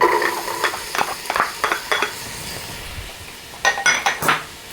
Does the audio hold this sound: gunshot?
no